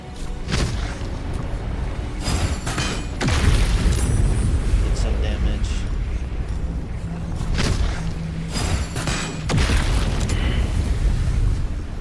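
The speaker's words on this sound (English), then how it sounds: "let's just use bombs" Bombs burst one after another during a battle in the video game Baldur's Gate 3, with several loud, deep booms standing out against a constant rumbling game soundtrack and a player talking between them.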